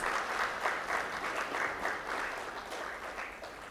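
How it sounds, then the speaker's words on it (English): A conference audience applauds during a memento presentation at a business event, a continuous, fairly distant wash of many hands clapping that swells slightly and then tapers off. "Ladies and gentlemen, a huge round of applause."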